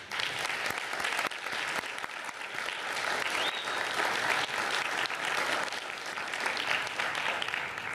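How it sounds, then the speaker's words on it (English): Applause at a city commission meeting, a room of people clapping steadily and evenly for several seconds, moderately distant. "so give them a round of applause"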